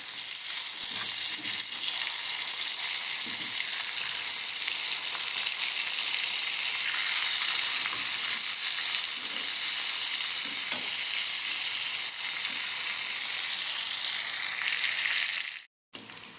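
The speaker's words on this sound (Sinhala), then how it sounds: "ඔන්න අපේ චිකන් ටික හොඳට බැදිලා තියෙන්නේ." Chicken fries in hot oil in a pan, giving a steady, loud, bright sizzle that runs without pause and cuts out abruptly near the end.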